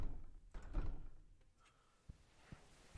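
A locked door in a video game is tried, giving a few faint, dull knocks and rattles, quiet and sparse, with no talk over them.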